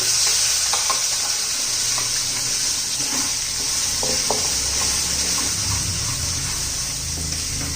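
Ground masala paste with coriander powder and turmeric sautéing in oil for a spicy bitter gourd dish, a constant loud sizzle with occasional spoon scrapes and light taps on the pan.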